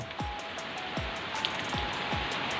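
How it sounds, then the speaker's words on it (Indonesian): Rain falling in the countryside, heard as a steady wash of drops with a few heavier drips and splats standing out close by, continuous throughout with no voices. "tiba-tiba hujan lagi, jadi ya balik lagi ke rumah"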